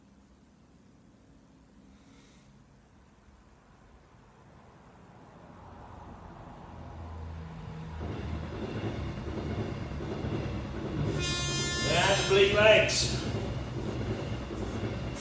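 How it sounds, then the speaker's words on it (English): A freight train rumbles past, growing from a faint distant approach to a loud, broadband roar with metallic screeching near the end, while a voice talks over it. "Freight trains are always the noisiest."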